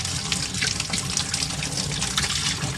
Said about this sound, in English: You need to get your water running.